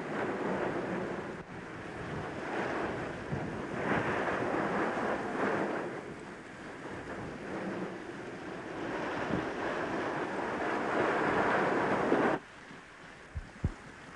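Turbulent sea waves breaking on a rocky point on the Brittany coast, a steady broadband roar of surf with rolling surges and wind buffeting the microphone, no voices, ending in a sudden drop to near quiet.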